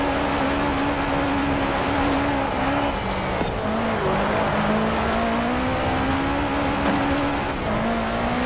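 A Subaru racing in Forza Horizon 4 on Xbox One, its engine holding a steady loud drone with small pitch shifts as it accelerates and changes gear, and occasional tire noise over a continuous roar.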